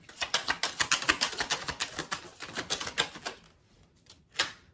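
Tarot cards are shuffled in quick riffles, a dense run of crisp rapid clicks and flutters for several seconds, then a pause and one final short burst, close and alone.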